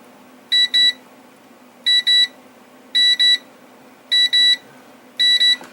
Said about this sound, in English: Where's my beeperator? Here's my beeperator. Let us make beeping noises.